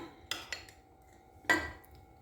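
Metal spoon clinks lightly against a plate while tahini is spooned onto liver sandwiches and salad, two quick taps and then a firmer scrape, close and quiet with no talk.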